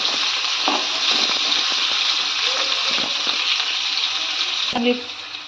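Green chillies and peanuts frying in oil for sabudana khichdi, a steady, bright sizzle heard close, with a few soft stirring knocks and faint voice underneath.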